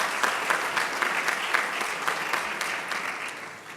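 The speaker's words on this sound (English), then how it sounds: "So please give them a round of applause" A breakfast-meeting crowd of mayors and business leaders gives a round of applause, dense steady clapping that fades near the end.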